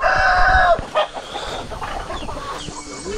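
A rooster crows loudly and close by in a Mentawai village on the island, the long call over in under a second, followed by softer clucking and scattered farmyard bird sounds.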